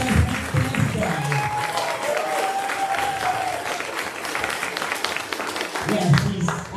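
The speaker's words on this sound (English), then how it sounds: "give me a round of applause for Andrea, please" Audience at a women's competition event clapping steadily for several seconds, a dense mid-distance round of applause with voices and a few cheers mixed in, swelling slightly toward the end.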